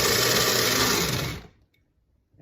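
Blender pureeing Caesar pasta salad dressing in a single loud, close whirring burst that stops abruptly, leaving near silence.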